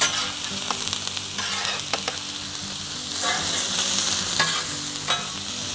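Philly cheesesteak filling sizzles steadily on a Blackstone griddle set to low, a close, even hiss broken by occasional scraping taps of a spatula.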